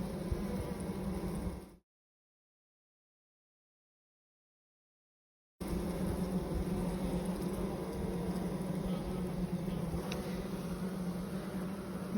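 Honey bees in a hive open for an autumn inspection in Australia hum steadily and close. The buzzing cuts out completely for a few seconds, then returns at the same level and runs on unbroken.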